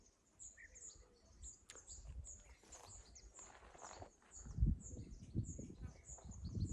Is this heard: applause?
no